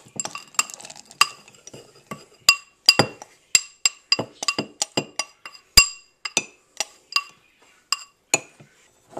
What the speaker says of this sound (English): And stir it in.